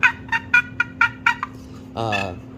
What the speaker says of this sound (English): This is just a simple box call.